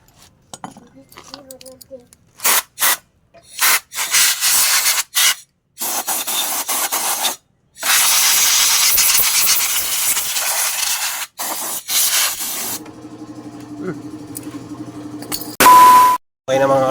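A power spray blasts dust off a Honda Click V3 motorcycle in repeated loud hissing bursts, some short and some sustained, with a steady mechanical hum beneath and brief voices between.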